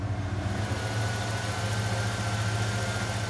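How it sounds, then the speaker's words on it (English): A Ford truck engine idles in park with a steady, low, even rumble and a constant hum close by, with no talking over it. "Now we're going to keep the engine running"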